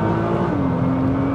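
A 2014 Nissan GT-R's engine revs hard from inside the car, a loud continuous roar with a rising whine as it climbs, no voices.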